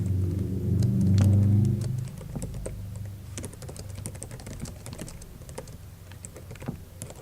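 Typing on a computer keyboard to enter a short table summary, a stream of quick, light key clicks following a brief low rumble at the start, fairly quiet with no talking.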